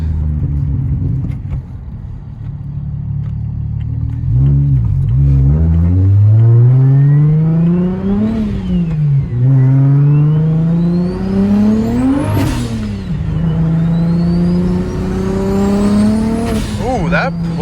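BMW N54 turbo engine and exhaust heard from inside the car with windows closed, revving up through repeated rising pulls and gear changes, loud and droning, with a voice talking over it.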